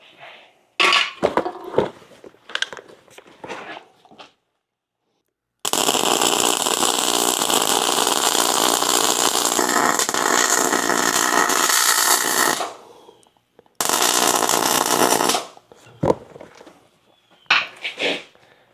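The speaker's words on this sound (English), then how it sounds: "And let's do some welding." A cart is being welded, and a harsh, steady crackling buzz holds for about seven seconds, stops, then returns briefly. Metallic clatter and handling noises come before and after the welding.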